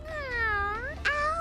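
A voice imitates a cat, giving a drawn-out meow followed by a shorter second meow, close and clear with no other sounds.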